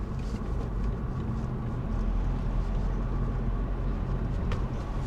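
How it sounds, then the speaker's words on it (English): A manual car's engine lugs at low RPM in too high a gear, a deep continuous droning rumble with steady road noise and no rise in pitch. "There, I'm lugging my engine."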